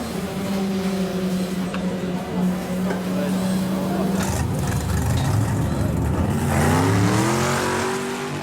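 Race cars run on a track, their engines droning and revving as they pass and change pitch, with voices talking over the roar.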